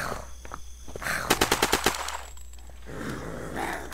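Uzi submachine gun in the video game Unturned firing a rapid burst of about eight shots, loud and close, set against a constant game background hum.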